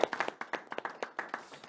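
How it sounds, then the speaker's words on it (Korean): A small seminar audience claps after a housing forum talk, a sparse, quiet round of distinct individual hand claps in an irregular rhythm lasting under two seconds. "큰 박수 쳐드리죠."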